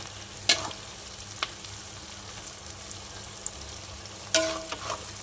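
Bitter gourd pieces deep frying in oil give a steady, soft sizzle throughout, with a few sharp crackles and spatters standing out near the start and end.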